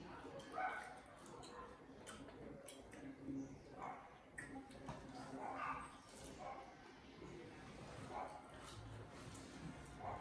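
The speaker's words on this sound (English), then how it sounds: "You hear the dogs. The dogs are out." Dogs barking somewhere outdoors, several scattered yips and barks at a moderate distance, mixed with ambient noise and some talking.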